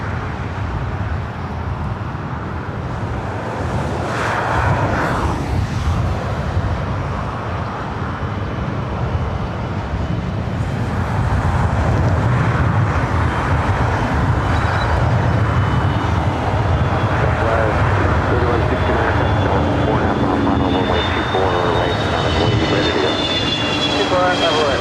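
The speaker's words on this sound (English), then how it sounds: "the Frontier A320neo coming in from SFO" A Frontier Airbus A320neo arrives at LAX from SFO, its engine roar loud and continuous throughout with a rising whine toward the end, the jet passing close overhead.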